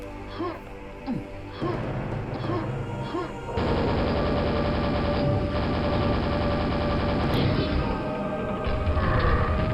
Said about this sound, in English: So here we're putting this secret grenade launcher to good use